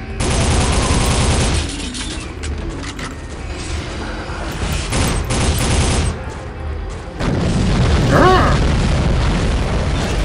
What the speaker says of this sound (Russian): Наверное, да, выстрелили